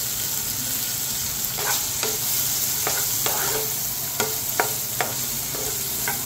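Paneer and onion fry together in a pan, giving a steady soft sizzle with sharp scraping stirs of a spoon at irregular intervals and no talking.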